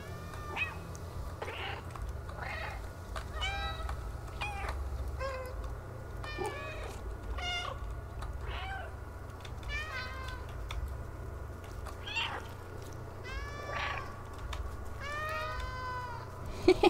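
Repeated cat meows from the video game Stray, a steady series of short, clear mews and a few longer calls over a low constant background hum, loud and close with no voices.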